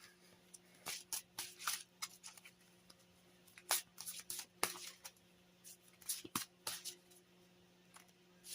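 Oracle cards are shuffled by hand at close range in quiet, soft irregular bursts of riffling and flicking spread across the clip.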